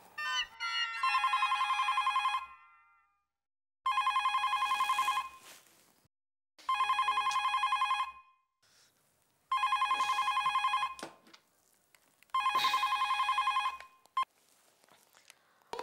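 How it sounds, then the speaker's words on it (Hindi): A landline telephone rings in five loud, evenly spaced bursts of electronic trilling, each lasting about two seconds with short silences between, heard alone with no talking. "अरे फोन तो उठाओ"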